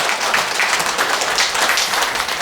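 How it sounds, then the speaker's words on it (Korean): An audience claps at an anniversary ceremony and lecture of a Busan civic association in a hall, a steady, moderately loud wash of hands with no talk over it. "여러분 큰 박수로 환영해 맞이해 주시기 바랍니다"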